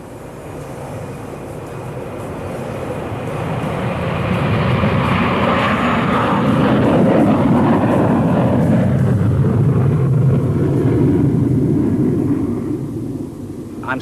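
Concorde supersonic airliner in flight, a steady broad cabin roar and low rumble that swells in the middle and eases toward the end, continuous with no talking.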